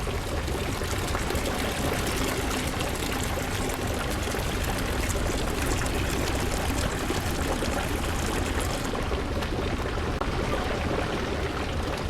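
In the horror game Hollowbrook Apartments, water runs from a spigot into a bucket as a steady, dense rushing flow that continues throughout and thins slightly near the end.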